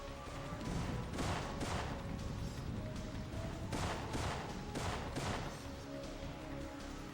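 Rapid bursts of gunfire ring out in the Syphon Filter video game, dense volleys repeating over several seconds at a moderate level with no talk.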